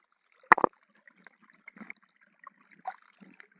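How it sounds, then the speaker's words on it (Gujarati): Water drains out of a rain-soaked farm field in faint, scattered trickles and splashes, with one sharper splash early on and quiet gaps between the drips. "પાણીનો નિકાલ અમે કરીએ છીએ ને પાણી અહીંથી નીકળે છે"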